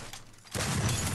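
Gunfire in a battle royale video game: after a brief quieter moment, a loud, dense burst of shots lasts about half a second and stays close and steady.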